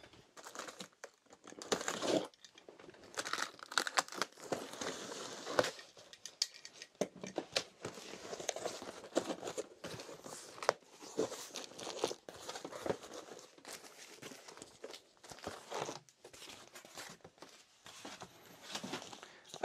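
Packaging for a Flexispot E7B standing desk being opened, with busy, continuous crinkling and rustling of plastic and paper, sharp tearing bursts and short pauses, close and fairly loud with no talk.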